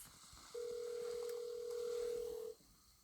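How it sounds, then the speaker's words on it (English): A steady, faint phone tone sounds over a shaky telephone line, holding for about two seconds against a quiet hiss before it cuts off abruptly. "she heard it ringing"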